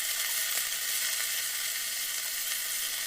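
Buckwheat greens (fapar saag) frying in a pan, a steady close hiss and sizzle with no talking.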